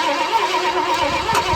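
The engine of a 1972 Ford F-100 pickup truck, suspected of vacuum leaks, cranks and sputters as it tries to catch, a steady mid-pitched churning that never fully starts.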